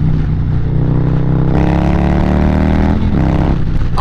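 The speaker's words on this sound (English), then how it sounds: "I was just enjoying the sound and the comfort of the bike." A Harley-Davidson Street Bob 114 Softail with a stage 2 build revs hard up close, its deep loud engine note rising in pitch, dipping briefly, then climbing again without pause.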